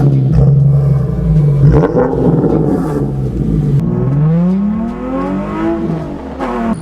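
A Nissan 370Z with a muffler delete and test pipes revs loudly up and down, its raspy exhaust note rising and falling in pitch through several pulls, heard close with no talking.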